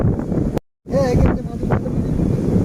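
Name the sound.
strong wind by the river at Diamond Harbour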